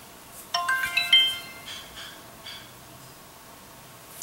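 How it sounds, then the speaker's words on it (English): A mobile phone rings out in a quiet room with a short run of bright, stepped tones lasting about a second, then fades away. Nobody talks over it. "That was my phone going off, by the way."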